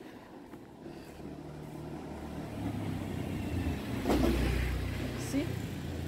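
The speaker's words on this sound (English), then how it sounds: "Just motorbikes coming past." Motorbikes on a quiet tourist street in Poppies Lane 1, Kuta Bali, with a low engine rumble that swells as one rides close by near the end.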